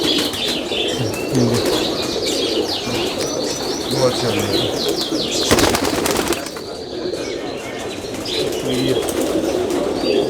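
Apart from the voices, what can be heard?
Cheena pigeons cooing and flapping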